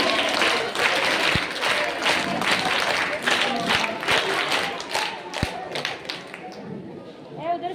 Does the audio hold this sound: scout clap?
yes